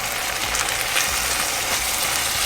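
Washed dried shrimps sautéing in a pan with eggplant, a dense continuous sizzle and crackle of hot oil with faint low rumbling underneath, heard close and steady without speech.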